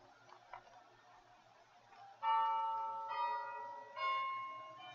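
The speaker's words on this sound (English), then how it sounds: "Hear those bells?" Church bells ring out, soft at first, then two louder strikes that swell and linger with long resonant tails, over a faint steady ticking.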